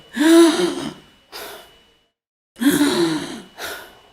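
A voice imitates a child's gasping breath, two sharp strained inhalations, each followed by a shorter breathy release, repeated after a brief pause, close and fairly loud.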